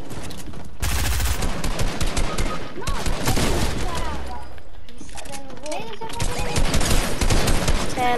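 Gunshots in Fortnite, a dense burst of rapid firing that breaks off and resumes, heard under loud overlapping talk from players.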